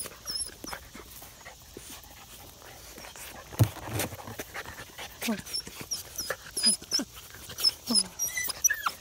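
Husky mix puppies pant in quick, breathy bursts close by, with small whimpers, shuffling paws and a person's voice now and then.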